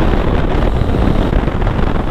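A 2018 Yamaha MT-09 Tracer motorcycle on the move, its engine droning under heavy rumbling wind buffeting the microphone, loud and steady with no talking.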